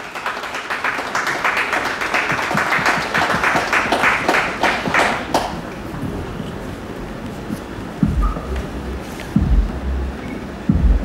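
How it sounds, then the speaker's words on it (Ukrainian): Audience applause at an art center opening fills the first half, dense and steady, then fades out, leaving a quieter room with a few low thumps. "Ваші оплески."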